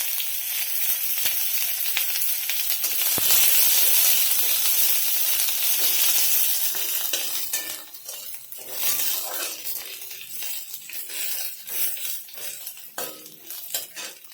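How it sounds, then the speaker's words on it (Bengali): Onions frying in hot oil tempered with cumin and bay leaf for a cabbage dish, a strong sizzle that softens partway through, with spatula scrapes and clinks against the pan. "পেঁয়াজটা খুব ভালো করে ভেজে নেব।"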